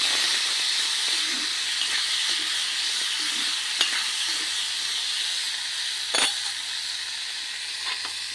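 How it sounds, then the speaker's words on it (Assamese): Chickpeas fry and sizzle in a hot pan while being stirred, a steady hiss with soft scraping strokes and a couple of sharp clinks of the spoon, no talking. "এতিয়া মই লাৰি আছো এনেকৈ"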